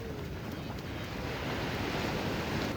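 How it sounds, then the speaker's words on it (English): Pacific Ocean surf rolls in as a steady, broad wash of breaking waves, mixed with wind buffeting the microphone, continuous and fairly loud for a few seconds. "We've made it to the Pacific Ocean."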